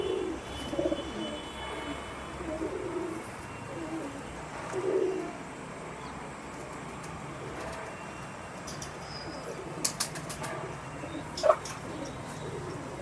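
Old-breed domestic pigeons coo softly in a quiet loft, with a few faint low calls and light rustling scattered over steady background hiss.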